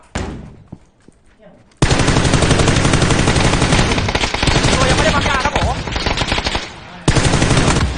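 Rapid automatic gunfire from a shooting video game, loud and sustained in long bursts with a short pause, after a quieter opening.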